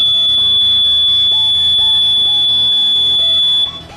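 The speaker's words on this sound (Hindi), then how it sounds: "और लंबी एक बीप की आवाज़ सुनाई देगी" An EVM ballot unit from a Bihar panchayat election training emits a long, loud, continuous electronic beep after a vote is cast, holding steady for about three and a half seconds before cutting off, with background music underneath.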